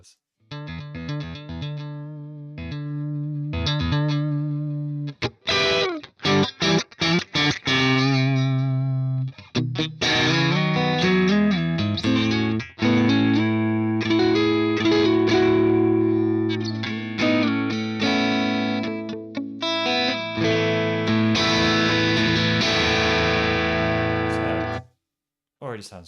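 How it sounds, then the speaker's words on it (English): Electric guitar played through a distortion effects unit while dialing in tones, with sustained crunchy chords and single notes, rhythmic stops and chugs, loud and close, ringing out for about twenty-five seconds before a sudden stop. "I'm pretty much going to try and cover all bases vaguely in terms of like dialing in different guitar tones."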